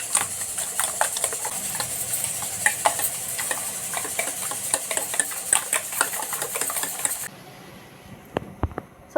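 Eggs being beaten in a bowl for Tamil-style muttai kalakki, a fast steady run of close whisking clicks and scrapes that stops abruptly near the end, leaving a few faint taps.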